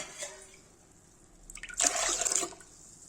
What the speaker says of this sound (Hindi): गाइस देखिए सब पानी डालेंगे